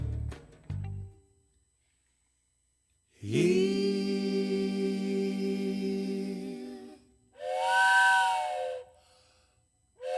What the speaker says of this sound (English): Here comes the conch train.